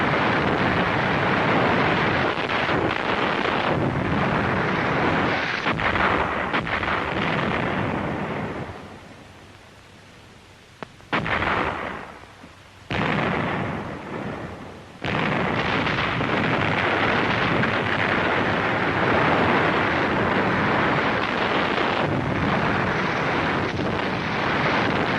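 Artillery and mortar fire pounds fortified ridges and Japanese cave positions in WWII Pacific combat: dense, loud, rumbling blasts rolling almost without a break, a short quieter lull midway, then heavy roaring barrage again.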